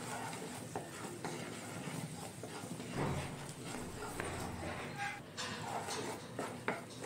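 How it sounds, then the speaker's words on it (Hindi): A spoon steadily stirs jaggery syrup being lightly boiled with a little water for puffed rice laddu, giving a continuous scraping and bubbling texture, close and moderately loud with no talk. "इस तरह से लगातार चलाते रहना है।"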